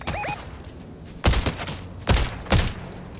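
Three loud, close bursts of gunfire from a weapon in the battle royale video game Fortnite, spaced about a second apart, each with a heavy low thump, after a brief two-note electronic chirp.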